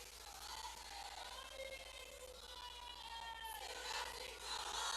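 A crowd at a Shivraj Singh Chouhan political rally in Madhya Pradesh chants slogans together, a steady, dense mass of voices rising and falling across the whole stretch, fairly distant and echoing.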